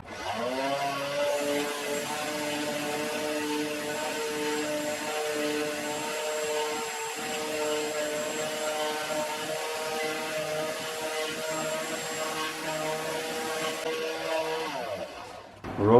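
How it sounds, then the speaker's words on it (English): A surface grinder attachment runs alongside a vacuum cleaner in a home workshop, producing a loud, steady, close whine with layered tonal hum that holds for the whole stretch before abruptly winding down at the end. "I'll have the vacuum cleaner running, this running. It'll be pretty noisy."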